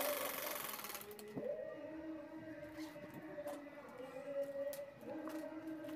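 A sewing machine stitches a tote bag, a faint steady mechanical whir with rhythmic ticks running throughout at low level.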